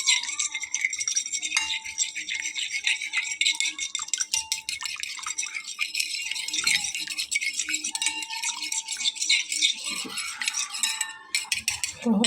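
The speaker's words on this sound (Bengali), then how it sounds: "খুব ভালো করে এটাকে আমি ফেটিয়ে নেব।" Eggs with salt and black pepper are beaten in a bowl, a fast continuous clinking and rattling of utensil against the bowl, close and steady for most of the stretch before it stops.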